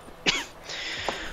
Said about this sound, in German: Mein Husten.